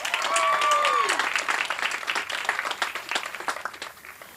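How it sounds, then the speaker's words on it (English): A college commencement audience bursts into loud applause with cheers and a whistle, the clapping dense and sustained before tapering off slightly. "And I got to get a big cheer for this."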